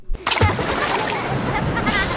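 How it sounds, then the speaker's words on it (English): Splashing through a big outdoor puddle, a sharp splat followed by a steady wet sloshing and spattering of water that stays close and fairly loud throughout, with a voice faintly present at times. "I'm going to splash in a big puddle."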